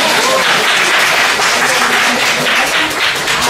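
A church congregation applauding during a sermon, with dense, sustained clapping from many hands at steady loudness and no pause.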